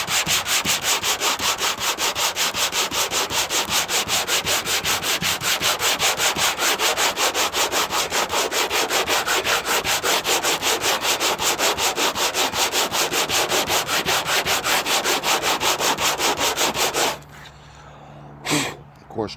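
Steady rhythmic crosshatch sanding on the paint of a 1957 Chevrolet Bel Air, close and loud with fast even back-and-forth strokes running continuously, then stopping near the end with a few faint handling noises.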